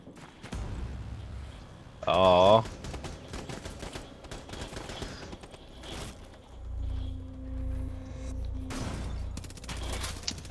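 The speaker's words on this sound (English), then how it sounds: "And he missed the shotgun blast." Gunfire in the Rainbow Six Siege video game, with a loud, sharp shotgun blast near the start that stands out over scattered game noise, followed by rumbling action and faint voices.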